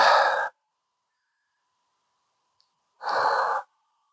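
Two slow, deep breaths out during a cooldown after a HIIT workout, each a soft, close breathy exhale about half a second long, separated by quiet.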